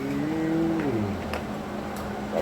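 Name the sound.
person imitating a cow mooing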